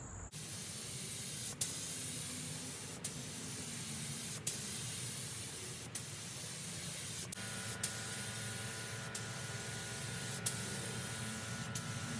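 A spray gun painting a 1988 Corvette roof hisses continuously at close range, with brief pauses between passes, and a faint mechanical whine joining partway through.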